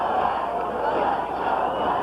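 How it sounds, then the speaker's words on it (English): Arena crowd at a 1998 ABL women's pro basketball finals game, Long Beach Stingrays at Columbus Quest, chanting in support of the home team, a loud, steady roar filling the whole stretch with no clear breaks. "And the crowd saying, let's go Quest."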